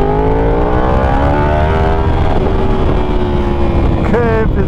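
A Yamaha YZF-R1 sport motorcycle on the move: a loud, close engine roar that holds steady with a slowly drifting pitch, then revs sharply upward near the end over wind rush.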